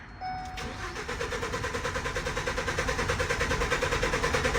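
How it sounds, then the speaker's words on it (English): A Ford Transit van engine cranking continuously with a fast, rhythmic starter whir that never catches, loud and steady throughout with no talking. "Extended crank, still cranking. Still cranking. It does not want to start."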